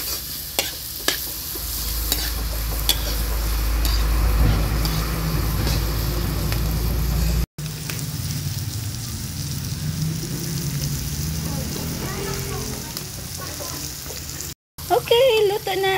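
Ampalaya (bitter gourd) and egg stir-fry in a pan in an outdoor dirty kitchen, with a loud, continuous sizzle and frequent scraping stirs running throughout, plus a steady low rumble in the first half.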